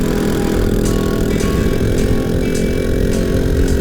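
Steady, loud engine drone runs continuously throughout, a close custom Janus motorcycle under way on a curvy rural Pennsylvania road with no voices, its low rumble never letting up.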